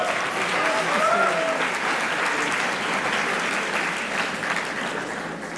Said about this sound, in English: Please give a round of applause for everybody